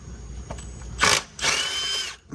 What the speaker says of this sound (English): go with the impact.